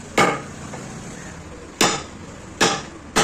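Mallet blows on a chisel while hand-carving a wooden wheat-grain design, roughing out one side: four sharp, loud strikes spaced irregularly, each ringing briefly, with no talk.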